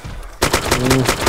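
Sharp gunfire from the video game DayZ bursts in abruptly, a rapid series of loud, punchy shots over a constant electronic background hum.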